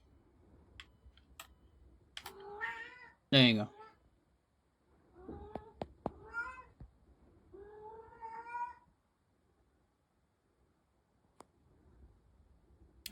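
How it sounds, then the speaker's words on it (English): A pet cat named Freya meows several times, short rising and falling cries spaced over a dozen seconds, close and fairly quiet, with a brief spoken remark and faint clicks between them. "That cat on the stair."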